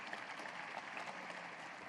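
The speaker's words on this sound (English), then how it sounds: "Hearty round of applause" A large audience at a university's annual address applauds in a steady, even wash of clapping that sounds faint and distant throughout.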